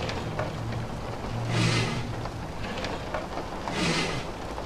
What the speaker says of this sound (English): Damn, it's raining so hard.